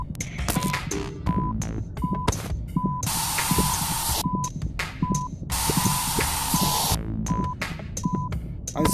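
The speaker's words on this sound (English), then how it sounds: "I'm spraying this patient with green goo." Spray bursts in the surgery video game Surgineer as green goo is sprayed onto a patient, two long hissing sprays between beeping tones and clattering game sounds.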